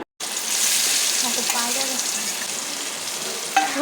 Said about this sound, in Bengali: এখন পনিরগুলো ছেড়ে দেব আর ভয় লাগছিল যদি তেল ছিটে যায়